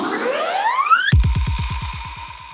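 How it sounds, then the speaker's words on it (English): A synthesized sweep rises in pitch for about a second, then a heavy electronic impact hits and decays into a fast pulsing, repeating echo, made in MSoundFactory. "So currently our riser and impact sound like this."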